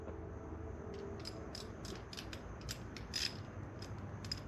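A 10 mm ratchet clicks in quick uneven bursts while removing bolts on a Jeep, faint and close, with no voices over it.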